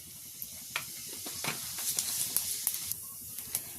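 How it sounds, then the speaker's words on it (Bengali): Cumin seeds crackling in hot oil in a wok, a soft sizzle broken by sharp, irregular pops and spits, with no talking. "কড়ার মধ্যে আমি তেল দিয়ে দিচ্ছি। তেল দিয়ে দিলাম, আর দিয়ে দিলাম অল্প জিরে।"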